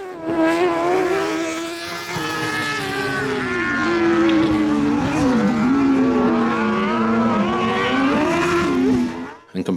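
Loud rallycross car engines roar continuously at Aghadowey, Northern Ireland, pitch rising and falling as the cars accelerate and brake, tyres sliding, with a brief drop-off at the end.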